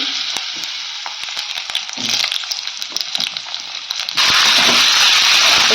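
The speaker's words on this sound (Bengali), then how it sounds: "সব সবজিগুলো একেবারে ভেজে নেব" Potatoes and mixed vegetables fry in hot oil with a close crackling sizzle that suddenly swells into a loud, dense hiss as more pieces hit the pan.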